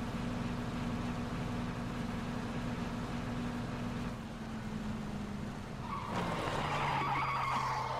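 A motorbike with a sidecar in the PUBG video game drives with a steady engine drone, then skids with a loud tire squeal near the end, with no talk over it.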